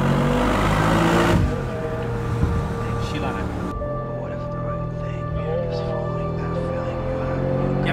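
A Mercedes-AMG car with exhaust flaps revs hard at first, a loud roaring engine note, then drops to a steadier lower drone while someone talks over it.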